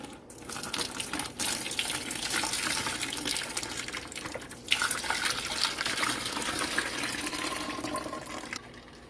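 Liquid pours steadily and splashes through a mesh strainer over strawberries up close, a continuous watery rush with a brief clink midway, while making strawberry sweet tea.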